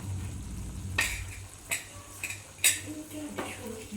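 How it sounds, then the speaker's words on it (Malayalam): A spoon stirs pepper egg curry in a pan, with four sharp scraping clinks at roughly even intervals over a low background hiss. "നന്നായിട്ട് ഒന്നും കൂടി ഒന്ന് മിക്സ് ചെയ്തിട്ട് എടുക്കാം."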